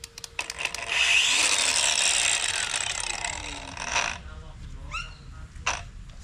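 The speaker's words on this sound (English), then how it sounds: "time to grind" Angle grinder biting into steel for homemade RB25 engine mounts in a 300ZX swap, a loud sustained grinding whine that builds and holds for several seconds, then breaks off into a few short scraping touches near the end.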